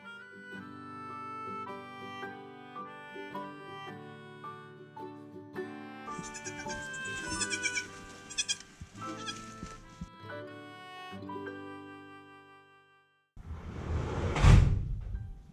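Baby goats and their mother bleat close by, with many overlapping wavering cries in quick succession, followed near the end by a loud thump or clatter.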